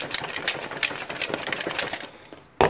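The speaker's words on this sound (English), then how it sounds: "put the whisk in there, put the lid on, and then just start shaking it up." A lidded container with a whisk inside is shaken rapidly, producing fast rattling clatter throughout, ending in a sharp knock.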